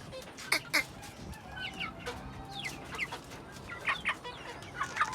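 Domestic chickens and their chicks cluck on a rooftop, giving close, busy bursts of clucks and high peeps over a steady background hiss.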